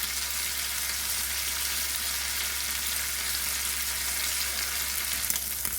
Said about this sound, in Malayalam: ഒരു സൈഡ് 3 മിനിറ്റ് വീതം നമുക്ക് ഫ്രൈ ചെയ്തെടുക്കാം